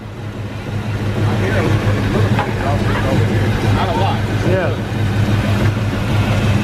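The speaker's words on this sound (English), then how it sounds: "I know that muffler is real bad." A car engine with an exhaust leak and a badly worn muffler rumbles steadily and loudly throughout, with a constant low drone, while people chat nearby amid crowd noise at a car meet.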